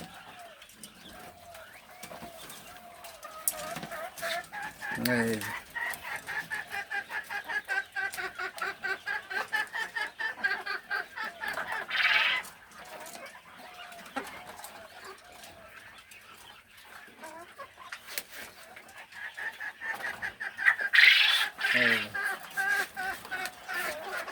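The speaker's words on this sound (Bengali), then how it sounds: "এই সাদা টাইগার মুরগি এই যে ফার্মি মুরগি" Farm chickens, including white broiler hens, cluck and call steadily on a poultry farm, with a couple of louder crowing bursts rising over the busy flock and a dog-like bark now and then.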